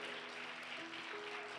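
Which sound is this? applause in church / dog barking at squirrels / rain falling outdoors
applause in church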